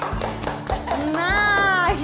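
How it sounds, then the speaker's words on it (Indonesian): Children in an online Sunday school kids' club Easter session clap their hands in a brief patter of taps, mixed with children's voices talking and calling out. "Tepuk tangan dengan tersenyum dong."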